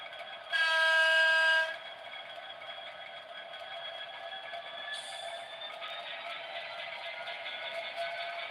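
A model railway locomotive shunting wagons sounds a short, loud electronic horn blast, then settles into a steady, tonal motor whine and hum with a brief faint squeal, close by.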